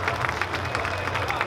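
A crowd at a food festival and brewery gathering watching an India versus Australia cricket match gives a round of applause, rapid clapping mixed with cheering and babble.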